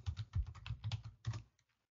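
A new password is typed on a computer keyboard in a quick burst of close key clicks, uneven in rhythm, pausing briefly before a last few taps and then quiet, with no talking.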